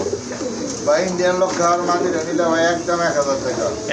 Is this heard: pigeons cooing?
yes